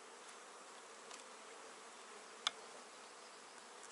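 Honey bees buzz in an open hive during colony splitting, a faint steady hum with a few brief, sharper buzzes of single bees passing close.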